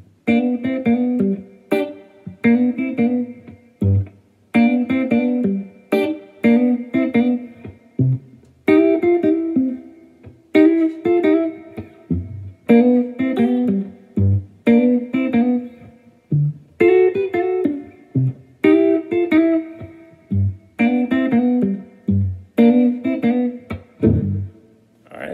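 Guitar playing a 12-bar blues shuffle with fills in G, rhythmic strummed chords and short bass-note phrases in a steady looping groove, close and clear with no speech.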